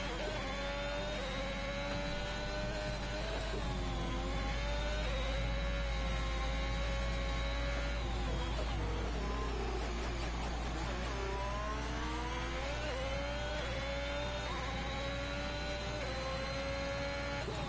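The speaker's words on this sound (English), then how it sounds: "So it looks like we might just have the Ferrari on circuit right now with Sharon." A Ferrari race car engine in a racing video game screams steadily around the Bahrain circuit, its pitch rising and falling through gear changes with no pauses.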